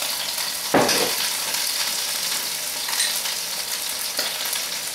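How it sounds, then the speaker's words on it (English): Chicken frying in a pan gives a steady, close sizzle with crackling throughout, with a few louder spits and stirs breaking through. "Can you hear my chicken sizzling?"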